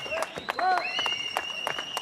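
Scattered clapping from a small crowd outside, with voices and whistles mixed in, irregular and moderately loud.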